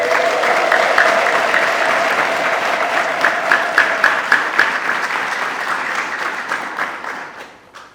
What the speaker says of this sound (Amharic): እልል በሉ እንጂ።